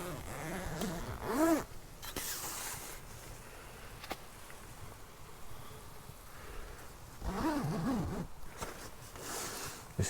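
A tent zipper on a ripstop polyester Luxe Minipeak XL shelter is pulled open and closed, with two rasping zip runs separated by quiet rustling and handling of the fabric.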